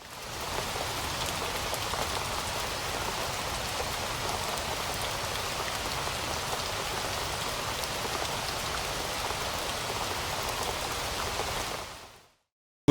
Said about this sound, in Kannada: ಫುಲ್ಲು ಮಳೆ ಬಂದ್ಬಿಡ್ತು